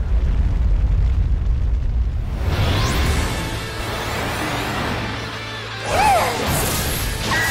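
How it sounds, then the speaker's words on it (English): Big explosion in the Persona 5 video game: a heavy low roaring blast at first, then crashing debris and rumbling, with swooshing effects near the end, loud and free of speech. "Good lord, that is a big explosion from a Jack."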